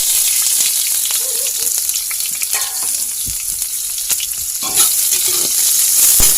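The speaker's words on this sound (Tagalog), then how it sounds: "Magigisa na tayo ng sibuyas," Onion, garlic and ginger sauté in hot cooking oil, giving a steady, loud crackling sizzle with scattered spits and pops that continues without a break.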